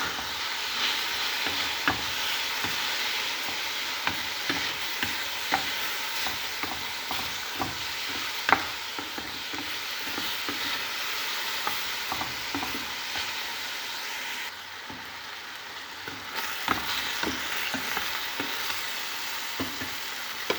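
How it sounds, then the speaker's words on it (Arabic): Chicken pieces fry in a pan for a white-sauce pasta dish, with a continuous loud sizzle, frequent clanks and scrapes from stirring, and a brief quieter stretch midway. "هنقلب الفراخ لحد ما يستوي معانا"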